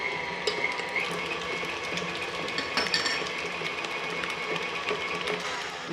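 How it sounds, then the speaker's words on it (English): A stand mixer churns cookie dough after an egg has been added, giving a steady mechanical whir with faint rattling and clicking, close and continuous without speech. "I'm going to take it off the mixer."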